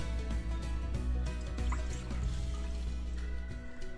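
Milk, 500 ml for a dessert, pours steadily into a container for about four seconds with a continuous liquid trickle and faint dripping, close and fairly quiet, with soft background music underneath.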